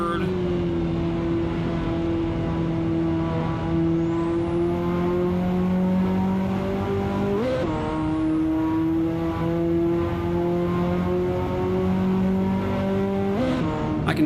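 A Ferrari engine in the Assetto Corsa racing game revs loud and steady through a 5-speed gearbox, pitch climbing in long pulls with two sharp gear changes, continuous and close throughout.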